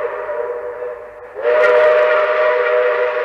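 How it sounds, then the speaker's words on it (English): A train whistle blows as one sustained, steady tone that swells suddenly louder partway through and then holds strong to the end, with no talking. "that train whistle would blow"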